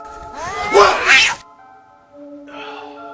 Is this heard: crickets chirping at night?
no